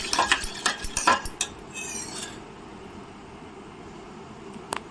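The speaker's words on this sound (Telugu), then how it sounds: "పెరుగు తీసుకొని ఇలా కలుపుతున్నానండి" Curd being stirred in a bowl at close range, a quick series of spoon clinks and scrapes that then fade to faint quiet stirring, with one last tap at the end.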